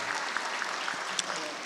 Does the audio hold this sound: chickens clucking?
no